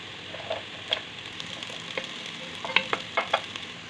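Garlic and onion sizzle in a pan for beef kabsa, a soft steady frying hiss with light clicks and scrapes of a utensil stirring at close range.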